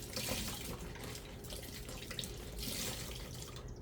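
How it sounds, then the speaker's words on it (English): Tap water running steadily into a sink during handwashing in a home kitchen, a close continuous splashing gush with small shifts as the hands move through the stream. "wash our hands again"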